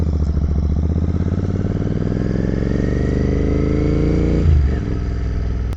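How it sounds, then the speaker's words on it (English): A Royal Enfield 650 Continental GT motorcycle engine runs loud and close with a steady throbbing idle, then drops sharply near the end with a sputter and a small pop as it falters. "Sputter and backfire there."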